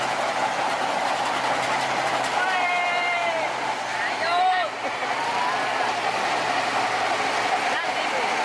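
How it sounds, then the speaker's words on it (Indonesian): An old small sugar-mill locomotive at PG Kedawung hauls a string of empty cane lorries out of the factory gate, giving a steady loud rumble with high wheel squeals rising and falling, and voices faintly under it. "lokomotif skoma kecil mulai menarik rangkaian lori-lori kosong keluar dari gerbang pabrik gula di sisi selatan pabrik"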